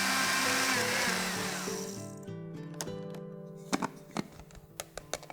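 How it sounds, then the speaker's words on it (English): A grinder whirs loudly while reducing rolled oats to fine powder, the motor's steady buzz winding down and stopping, followed by a few light clicks and taps. "Pour them into a grinder and grind until you get a very fine powder."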